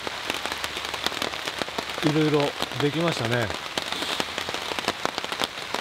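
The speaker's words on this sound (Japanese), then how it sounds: "今日は雨の中でしたけど" Steady rain falling outdoors on a wet woodland bushcraft site with tarp shelters, a continuous patter of drops under a short stretch of talk.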